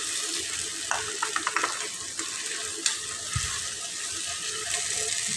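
Cabbage Manchurian cooking in a pan with cornflour paste and a little water, a steady bubbling sizzle with scattered clicks and taps of stirring, moderately close.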